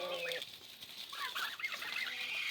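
A young turkey among farmyard poultry gives high, thin peeping calls at close range, mixed with softer murmuring from other fowl nearby.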